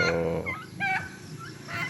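Turkeys gobble and call in a flock, a few warbling bursts overlapping at close range with no talking.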